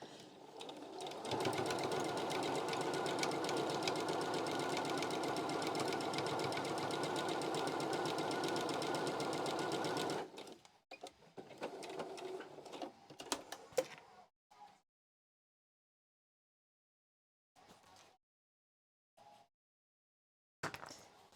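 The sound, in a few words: sewing machine sewing masks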